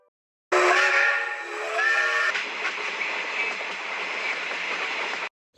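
A train sounds its whistle, then keeps rumbling and rattling along loudly for several seconds before cutting off.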